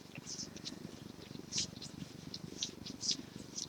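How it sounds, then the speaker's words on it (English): A cat purrs steadily and softly throughout, a low continuous rumble close by, with a few brief higher clicks and rustles over it. "And you have got a playful kitty in about an instant."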